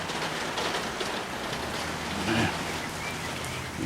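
Steady rain falls outdoors around a New Holland 3930 tractor, making a constant dense hiss with a brief louder patter in the middle.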